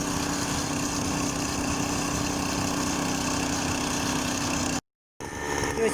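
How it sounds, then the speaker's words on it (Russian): A lawn mower cuts grass with a steady, droning engine hum, close and continuous, broken by a brief gap near the end. "Все, Сережа пошел косить траву."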